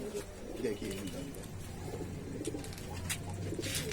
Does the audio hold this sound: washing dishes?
no